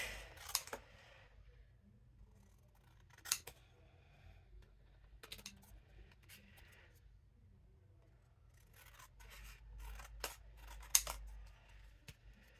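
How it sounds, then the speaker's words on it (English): Scissors snip through thick craft paper for a background, a handful of short, sharp cuts spaced irregularly with quiet gaps between, close and fairly soft. "I gotta cut it down because it'll go in that way, but it won't go in"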